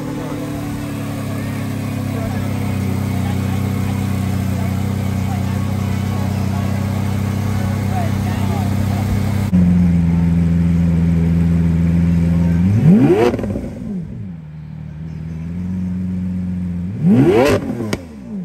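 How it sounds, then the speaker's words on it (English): A Lamborghini engine just started at an outdoor car festival, idling with a steady low rumble, then two quick revs rising and falling near the end, loud and close. "Let's listen to this Lamborghini."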